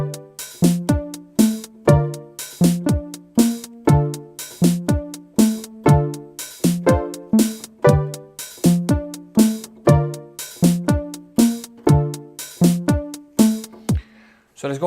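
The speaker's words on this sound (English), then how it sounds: "Let me play that section with drums so you have an idea." Piano chords from a song over a steady drum beat, a bright, even pulse of repeated hits and sustained notes played loud and close without pause.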